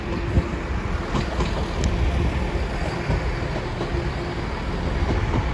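A Class 165 Turbo diesel multiple unit at Exeter St Davids station gives off a steady, rumbling roar with a faint high whine, loud and continuous, no voices.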